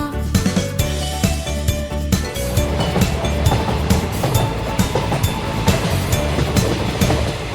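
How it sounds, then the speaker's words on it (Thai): A cartoon train rattles along with a rhythmic clickety-clack on its way to a farm, mixed in with bright background music from a children's song. "รถไฟจะไปในฟาร์มเราไปด้วยกัน"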